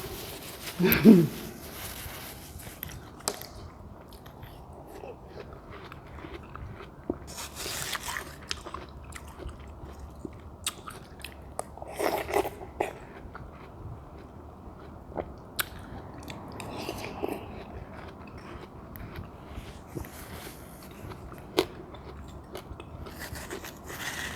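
Someone bites into and chews juicy watermelon up close, with wet crunches and slurping bites scattered irregularly across a quiet room background.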